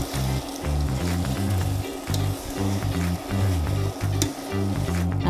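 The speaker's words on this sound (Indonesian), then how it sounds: "ini sudah saya aduk dengan saus bolognese-nya" Cooked spaghetti, 250 grams, stirred through bolognese sauce in a pan, giving a close, loud rhythmic wet churning and scraping with a light sizzle underneath, repeated in short strokes.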